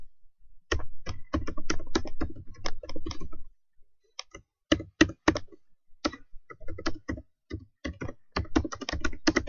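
Close typing on a computer keyboard comes in rapid bursts of crisp clicks, with short pauses between runs of keystrokes.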